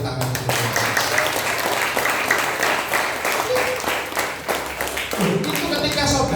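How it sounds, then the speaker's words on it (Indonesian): A church congregation claps in rhythm during praise and worship, giving loud, regular unison claps for several seconds with voices and music underneath before the clapping fades out near the end. "Ayo berikan tepuk tangan."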